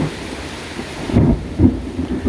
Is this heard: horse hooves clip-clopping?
no